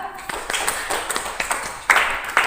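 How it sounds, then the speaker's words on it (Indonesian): Classroom applause for a student group, scattered claps with a brief louder burst near the end, mixed with faint murmuring voices. "beri aplaus untuk kelompok 2"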